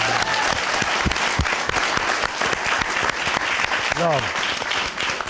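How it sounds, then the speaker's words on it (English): An audience claps loudly in a talk-show setting, with steady applause mixed with cheers and voices speaking over it throughout. "Round of applause, please."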